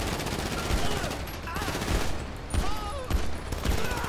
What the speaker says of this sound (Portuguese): Nossa, é muito tiro de ponto 50 no hard